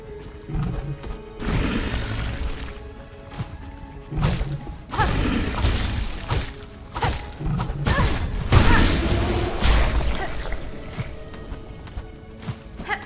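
Enemies in Hollow Knight Silksong burst in a run of thumping, crashing blasts with whooshes and game music between them, loud and close, repeating over several seconds.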